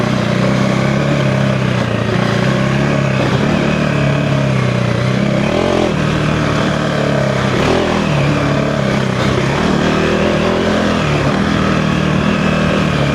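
A 2025 KTM 390 Enduro R single-cylinder motorcycle riding a trail lap, its engine droning loudly and steadily close up, with small throttle swells and dips throughout.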